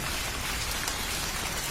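Rain falls steadily as a continuous dense patter, used as a horror cartoon sound effect, with no voices and no thunder.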